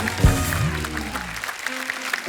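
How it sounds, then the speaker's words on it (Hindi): Studio audience applause on a comedy talk show set, steady clapping running through the whole moment while a voice and a low tone briefly sound over it at the start. "एक बार जोरदार तालियां हो जाए।"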